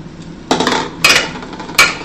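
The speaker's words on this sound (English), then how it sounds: "Now we're going to just throw our shrimp in." Shrimp tossed into a pan of melted butter and seasoning for New Orleans BBQ shrimp, landing in three sharp clattering bursts of metal and sizzle, close and fairly loud, with no talking.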